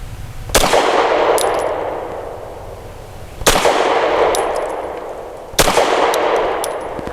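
A Tisas Bantam 9mm pistol fires three sharp loud shots, each about three seconds apart, and each shot rings out into a long reverberant decay with faint metallic pings, heard close with no speech.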